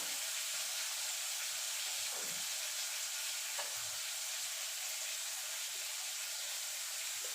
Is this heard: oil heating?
yes